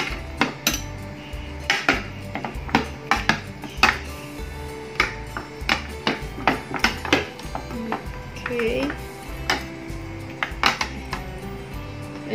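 Marinated pork ribs stirred with ginger in a bowl for steamed Malaysian-style pork ribs, giving repeated close clinks and scrapes of a utensil against the bowl in an uneven rhythm, with a low steady hum underneath.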